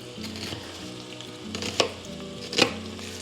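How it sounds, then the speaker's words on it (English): Pancetta browning in a pan for pasta e fagioli gives a steady, moderate sizzle, with two sharper crackling bursts near the end and faint music underneath. "Okay, pancetta is slowly browning."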